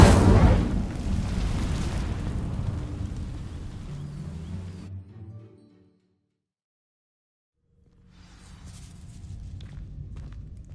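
In the game Hogwarts Legacy, the Incendio fire spell sets dry vines alight with a loud rushing, roaring burst of flame. The roar fades to silence after about five seconds, then a softer crackling rumble returns.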